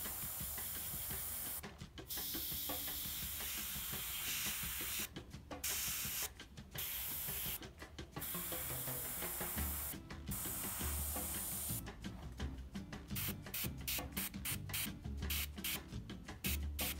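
Airbrush spraying Mission Models acrylic paint in steady, continuous hissing bursts, with brief gaps and quicker short pulses toward the end, close and fairly loud with no voices.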